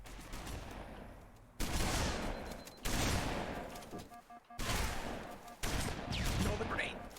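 Rapid bursts of video game gunfire and grenade blasts come in loud, dense volleys separated by brief lulls, with players talking over the shooting.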